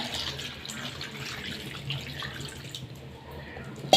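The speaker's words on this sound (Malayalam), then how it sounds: "ഇനി നമുക്കിതിലേക്ക് ഇതാ ആവശ്യത്തിന് വെള്ളം കൂടി ഒഴിച്ചു കൊടുക്കാം." Water pours quietly and steadily into a spiced cooking mixture, a soft splashing trickle that fades slightly before a brief clunk at the end; no one speaks.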